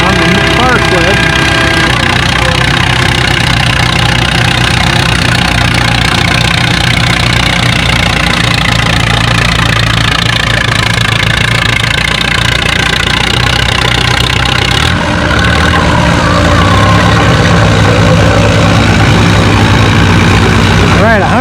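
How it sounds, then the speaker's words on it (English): A Minneapolis-Moline U and an Allis-Chalmers WD tractor pull sleds on wet clay at a spring tractor pull, their engines roaring steadily and loudly throughout, with a brief dip midway. "we got a U Moline on the near sled. Got an Alice WD on the far sled"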